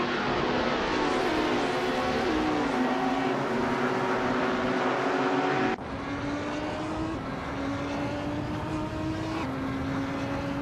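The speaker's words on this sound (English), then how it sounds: "Beats with Kev has just overtaken a car to move into 7th." Race cars in a racing video game roar steadily with high engine whine, shifting pitch as gears change, then a sudden cut to another car's engine note holding a rising drone with no talk.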